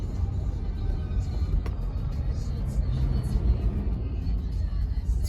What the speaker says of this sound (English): we got a big truck coming this way